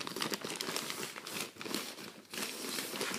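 Plastic packaging crinkles and tears as a newly bought firecracker collection is unwrapped, with close, uneven bursts of rustling for a few seconds and no speech.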